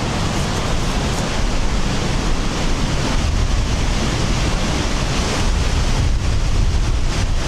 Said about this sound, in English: It is crazy windy here.